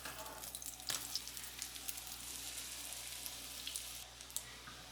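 Eggs fry in a pan with a steady, close sizzle that crackles throughout, with a few sharper pops and a brief stir-like clatter near the start.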